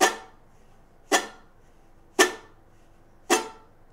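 Four palm-muted guitar chuck strums sound in turn, each a sharp percussive scrape that dies away quickly, spaced about a second apart, close and clear with no talking.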